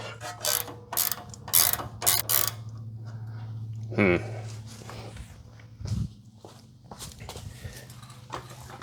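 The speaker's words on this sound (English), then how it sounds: "So I'll loosen this end link." A 17 mm wrench loosens the sway bar end link on a third-generation Toyota 4Runner, with several rapid ratcheting clicks up close, a few metallic clanks, and a low steady hum in the background.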